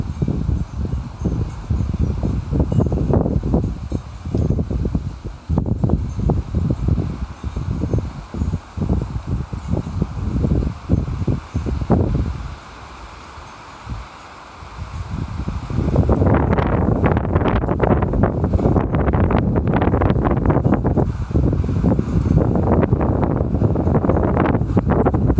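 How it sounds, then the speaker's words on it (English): Strong wind gusting through woods on a cool morning, a loud continuous roar of rushing air and rustling leaves with buffeting against the microphone, easing briefly before surging back even harder. "The wind's blowing really hard"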